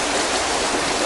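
A river rushes steadily past in a loud, dense broadband hiss, close and continuous, with no voices.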